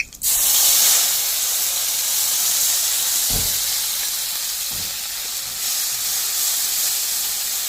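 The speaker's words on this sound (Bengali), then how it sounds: "তেল গরম হয়ে গেছে আমি কালো জিরে দেবো" Black cumin seeds hit hot mustard oil with a quick rattle, then a steady, loud, close sizzle and hiss continues without pause, with a couple of soft low knocks midway.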